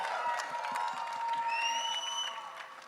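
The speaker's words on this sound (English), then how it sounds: "then you tell him with a big round of applause and some cheers in the house" An audience at a trailer launch for a Netflix series claps and cheers, a dense burst of applause with whistles and whoops that swells and then begins to taper off.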